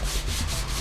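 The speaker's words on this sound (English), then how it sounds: "a little bit of 120 grit on the sanding block, and just keep going" Body filler on a dent repair is sanded with 120 grit sandpaper on a sanding block, making a steady, close, continuous rasping rub with no break.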